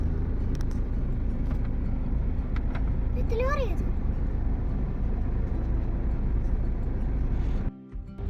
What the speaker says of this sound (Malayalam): ഞങ്ങളുടെ വണ്ടിയും പെട്ടു ഇങ്ങോട്ട് നോക്കൂ ബ്ലോക്കിലാണ് ഞങ്ങൾ